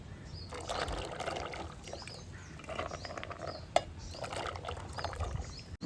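Water and macaroni in a cooking pot: a soft, continuous pouring and trickling wash of liquid with light splashes and one brief clink near the middle, moderately close and fairly quiet.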